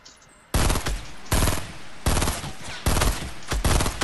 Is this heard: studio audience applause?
no